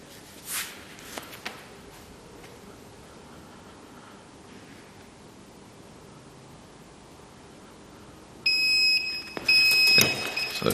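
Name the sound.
heat press timer alarm beeping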